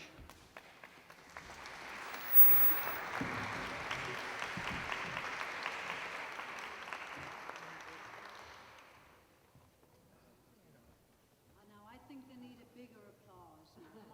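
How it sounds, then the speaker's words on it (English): Theatre audience at a Bloomsday arts show applauding performers, a sustained wash of clapping that swells for most of the clip and then dies away as a voice starts speaking. "Give them a better applause."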